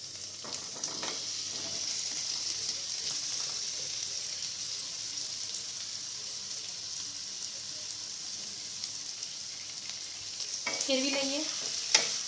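Boiled, cut potatoes sizzle steadily in a pan with curry leaves, a quiet, even frying hiss with a few scraping stirs near the start and a brief clatter near the end.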